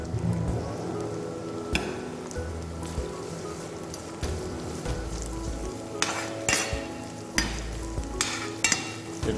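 Chopped onion sautéing in a pan with turmeric, red chili powder and tomato puree for chana pindi, a steady close sizzle with scattered stirring scrapes and knocks throughout.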